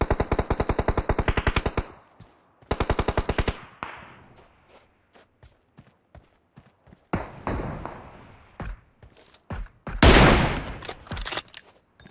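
Automatic gunfire in PUBG Mobile, two loud, close rapid bursts followed by sparse distant shots and sharper impacts scattered through the rest.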